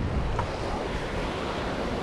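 Strong wind roars across a rocky seashore during rock fishing, with surf washing underneath, a continuous loud rush buffeting the microphone and no talking.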